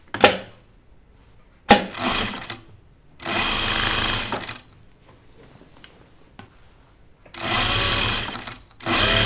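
A sewing machine stitches bias binding onto an apron in three or four sustained runs of steady whirring, separated by short pauses with light clicks and handling sounds, close and alone with no talk.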